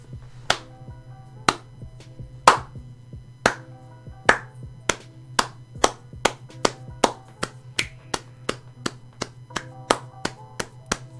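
Slow, deliberate hand claps from a single person, about twenty sharp claps spaced roughly half a second apart, speeding up slightly toward the end, close and clear over a steady low background hum.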